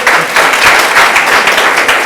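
Loud, dense clapping from an audience at a televised talk event honoring the US ambassador in Côte d'Ivoire, a short continuous burst close to the microphone.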